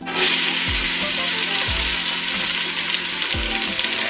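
A whole chopped onion sizzles in about two tablespoons of hot vegetable oil in a soup pot, a steady loud hiss broken by a few low thumps of stirring.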